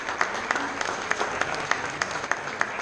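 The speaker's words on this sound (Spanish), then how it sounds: "Fuerte el aplauso." An audience at a writers' circle anthology launch claps steadily as a woman comes forward for her copy, with a few sharper claps standing out rhythmically from the dense applause.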